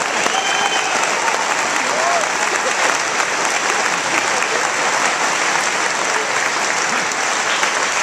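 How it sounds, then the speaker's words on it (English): A crowd at a political rally claps steadily and loudly, a dense continuous wash of applause with scattered cheers filling the hall. "Give him a round of applause."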